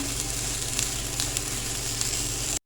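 Steady, dense sizzling of vegetables frying with ginger and garlic in a hot pan for spring rolls, a continuous crackling hiss that cuts off abruptly at the end.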